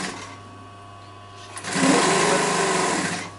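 A sewing machine stitching piping along the edge of a cushion panel, starting with a low hum that swells into a steady, loud, close whirring run with no talking.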